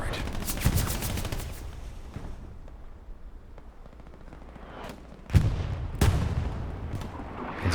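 Rapid gunfire from the World War II video game Hell Let Loose on Omaha Beach, with a loud burst at the start and sharp shots after a quieter stretch, plus distant bangs throughout.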